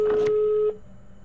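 A telephone rings in the horror video game The Nun, giving one loud steady electronic tone that lasts well under a second before dropping to a faint background hum.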